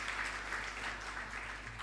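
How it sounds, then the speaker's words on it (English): A university award ceremony audience applauds, a steady wash of many hands clapping at moderate distance that continues evenly for the whole moment with no talk over it. "Let's give him a word of applause."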